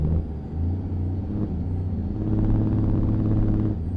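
A Cummins N14 engine in a custom Kenworth W900 in American Truck Simulator, a deep steady low-end rumble that swells slightly under throttle over four seconds, heard alone without talk.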